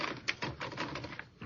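Quick, uneven clacks of keys striking on a manual typewriter, rattling along in a steady burst of typing with one louder strike early on; nearby and fairly quiet, with no voices.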